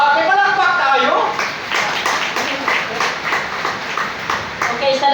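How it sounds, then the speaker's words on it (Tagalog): A church congregation claps for Pastor Bernie, a brisk run of many hands with sharp individual claps standing out, while a voice speaks over the start and end. "Palakpak tayo."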